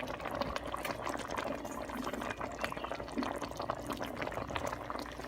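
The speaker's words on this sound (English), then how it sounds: "I'm going to pour off some of the water" Water is poured off from a tin in a Jamaican cow foot recipe, a continuous close splashing pour that runs steadily for several seconds with no talk.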